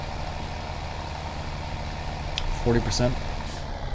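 Truck engine idling low and steady in Farming Simulator 17, hauling a load of corn, with a few short reversing beeps near the end as someone talks over it.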